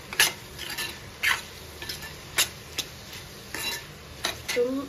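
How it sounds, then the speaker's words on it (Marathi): A spoon stirs coriander-cumin powder, Kashmiri red chili and chili masala into mushroom bhaji, giving a series of scraping clinks against the pan every second or so, with faint sizzling underneath and no voices. "धणे जिरे पूड मोठा चमचा घेतला आणि व्यवस्थित रंग येण्यासाठी काश्मीरी लाल मिर्च आणि तिखटाचा आपला मसाला, हे सगळं छान मिक्स करून घेऊ."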